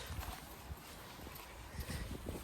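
Donkey hooves clop in a steady walking rhythm, close and fairly quiet over outdoor background noise.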